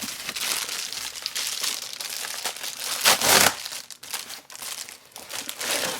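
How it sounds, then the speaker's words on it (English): Plastic mailer and cardboard packaging from Amazon orders crinkling and tearing open in steady, close handling, with a louder ripping burst midway and no talk. "Now it's time to open the new packages."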